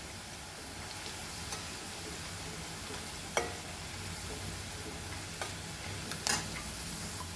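Onions frying in oil produce a continuous hissing sizzle, punctuated by a few sharp clicks and scrapes of stirring, close and moderately quiet, without speech.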